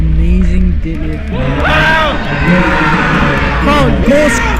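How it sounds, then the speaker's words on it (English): Powerlifting meet crowd cheering wildly after a deadlift, loud overlapping whoops, bellows and shouts close by, sustained throughout. "Crowd goes crazy."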